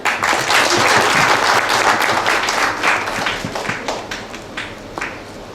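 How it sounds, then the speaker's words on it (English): An audience gives a loud round of applause at a corporate event, a thick burst of clapping that starts strong, holds, then thins out into scattered claps near the end. "Please let's have a huge round of applause for them."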